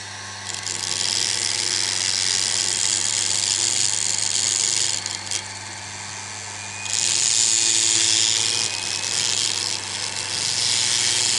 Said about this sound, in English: So lathe on.